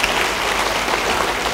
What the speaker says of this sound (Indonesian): Yang tidak mau, beri tepuk tangan bagi dia